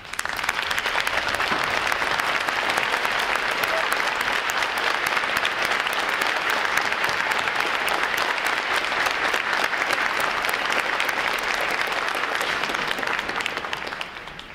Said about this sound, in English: Would all our veterans please stand so we give you a round of applause.